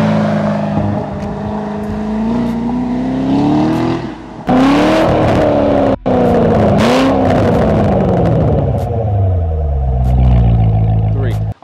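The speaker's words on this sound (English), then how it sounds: "The fifth thing I love about my Corvette is the rev matching." A Chevrolet C7 Corvette's V8 blips and surges as it rev-matches through downshifts, loud and close from inside the car, with pitch sweeping up and down and a brief cut before the engine roars again; someone speaks over part of it.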